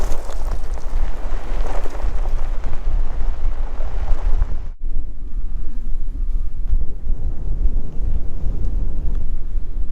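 Strong wind on Anticosti Island roars against the microphone in heavy, low gusts, dropping briefly midway before the buffeting resumes, with no voices.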